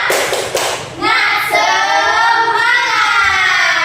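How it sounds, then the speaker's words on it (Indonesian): Classroom students do the 'tepuk semangat' spirit clap: a quick burst of rhythmic hand claps, then the class shouts a drawn-out chant together. "Tepuk semangat"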